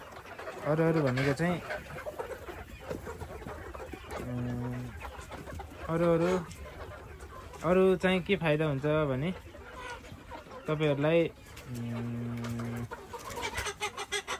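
Chickens cluck in a coop in short repeated bursts, close and fairly loud, with a person talking between and over them.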